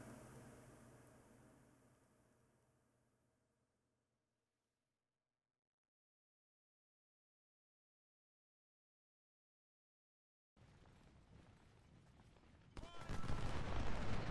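Spencer carbines fire rapidly in a Civil War video game, a dense crackle of gunfire that fades out, then silence, before a loud, busy burst of massed shots returns at the end.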